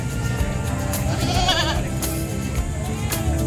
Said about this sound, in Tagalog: so ang daming kambing ni sir